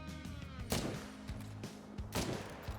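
Rifle fire in the hunting video game Call of the Wild, a few sharp reports spaced across a couple of seconds over a steady low game ambience, moderately loud.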